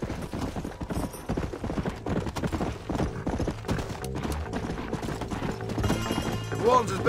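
Rapid hoofbeats of a galloping horse in the video game Red Dead Redemption pound continuously, mixed with busy background noise and occasional voices.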